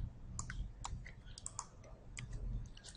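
Faint, crisp mouse clicks while activating a setting in computer software, several light taps scattered over a few seconds against a quiet room hum.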